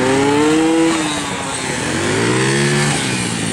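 On a training course, a motorcycle revs and accelerates close by, its engine pitch rising, dropping and then climbing again in a loud, buzzing drone.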